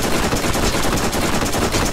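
Rapid SMG fire in the Borderlands shooter game, a loud, dense and unbroken stream of automatic shots that lasts the whole moment.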